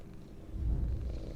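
Cat purring in the video game Pieces of Me, a soft low rumble that swells midway through a brief stretch and stays close and steady, alone without talk.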